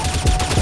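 Gunfire from a Roblox video game, a short burst of rapid, loud shots that hit in quick succession.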